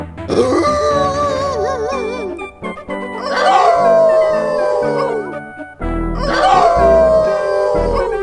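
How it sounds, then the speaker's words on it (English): Several animal characters in the Inherit the Earth video game join in a group howl, long wavering voiced wails rising and falling in three loud overlapping bursts with brief gaps between them. "Hey, everyone, how about a good group howl?"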